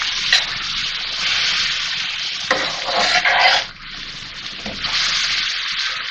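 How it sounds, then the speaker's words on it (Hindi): Minced meat and golden fried onions are stir-fried in a pan, with a loud steady sizzle and frying hiss broken by a few scraping stirs from a spatula, close up and without voices. "प्याज गोल्डन होने के बाद मैंने कीमा डाला है और 2 से 3 मिनट मैंने इसकी भुनाई कर ली।"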